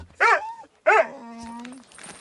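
A dog whines in a snowy village, giving a short high whimper followed by a longer drawn-out whine that slides down in pitch and then tapers off.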